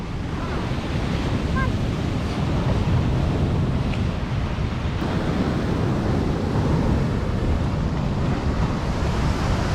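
Ocean surf roars steadily with waves breaking continuously at Imrang Beach in Gijang, Busan, mixed with gusty wind buffeting the microphone.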